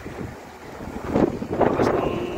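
Strong wind in Doha, Qatar ahead of expected rain, blowing through trees as a continuous rushing roar that swells louder in the second half, buffeting the microphone.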